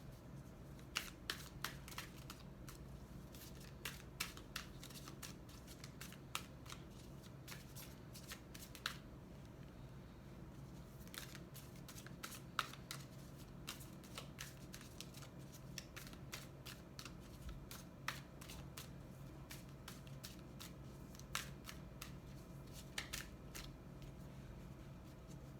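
Tarot cards are shuffled close up in a quiet room, with repeated crisp riffling flutters and soft card slaps recurring steadily over a low background hum, with no voices.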